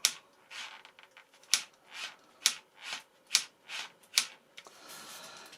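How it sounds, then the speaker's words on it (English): A faulty servo from a Horizon Hobby Night Radian RC plane buzzes in short repeated bursts, roughly a dozen sharp whirring grinds spaced about half a second apart, close and fairly loud with quiet gaps between. "This was the servo that caused all the trouble."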